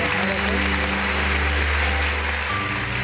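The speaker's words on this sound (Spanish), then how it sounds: "Un aplauso." Studio audience applause on a Spanish afternoon television show, heard as a loud, continuous wash of clapping that fills the room evenly for a few seconds under a low background hum.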